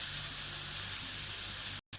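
Mustard greens fry in a pan with kalo jeera, making a steady close hiss and sizzle that cuts out abruptly near the end.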